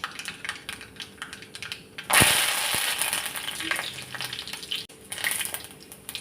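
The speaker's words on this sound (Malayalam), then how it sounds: "കടുക് നന്നായി പൊട്ടാൻ തുടങ്ങിയിട്ടുണ്ട്." Mustard seeds and curry leaves hit hot oil with a sudden loud burst of sizzling, then keep up a busy crackle and pop that slowly eases off.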